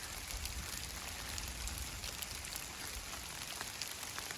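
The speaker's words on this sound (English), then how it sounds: "Getting hailed on." Hail pelts down on a hiker on the Colorado Trail, a dense, continuous hiss of small icy impacts close around, with no talking during it.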